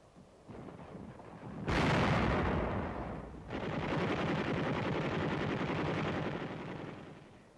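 A 57mm gun manned by French Commando d'Afrique troops fires at the Chateau de Belfort fortification in WWII combat footage, one heavy blast followed by a second sustained roar of gunfire and rumble, loud and continuous with no talk.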